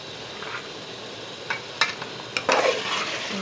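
Potatoes and chicken being stirred in a frying pan make a soft, steady sizzle, with a few sharp clinks and scrapes of a spoon against the pan near the end.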